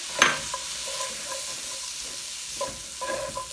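Diced potatoes drop into a hot skillet for chicken pot pie, giving a sharp burst of sizzling that settles into steady frying with a few scraping stirs, close and clear with no talking.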